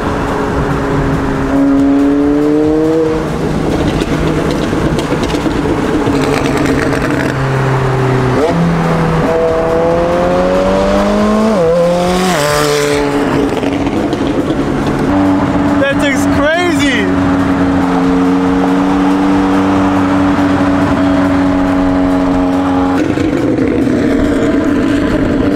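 An 800-horsepower supercar, one of several high-powered cars gathered in Detroit, revs and accelerates loudly and close by. Its engine note sweeps up and down repeatedly, with people talking over it throughout.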